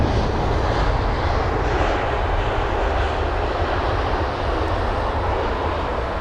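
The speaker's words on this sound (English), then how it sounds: "there's a Lufthansa livery on board the 320neo" Broadband jet roar from a Lufthansa Airbus A320neo at London Heathrow, loud and steady throughout, with no voices.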